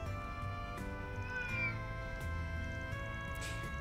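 A cat meows in the video game Trails through Daybreak, a couple of faint, short, high mews over steady game background music, with no talking.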